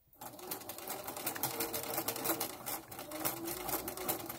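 A sewing machine stitching fabric for a doll's leg and foot runs in a steady rapid rhythm of needle strokes, close and continuous throughout.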